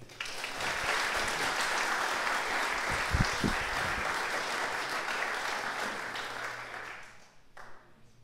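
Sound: audience applause for Dominic and Duncan

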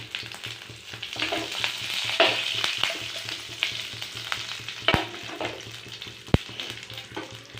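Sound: mustard seeds and curry leaves frying in oil

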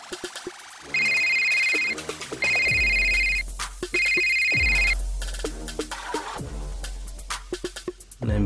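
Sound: phone ringing

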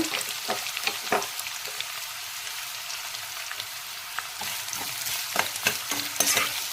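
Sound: chopped onions frying in a pan

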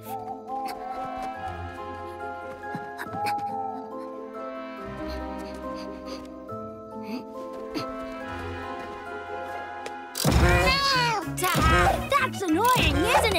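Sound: cartoon cat meowing

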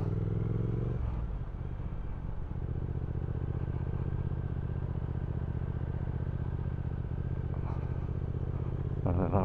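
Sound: Triumph Speed Twin motorcycle engine while riding

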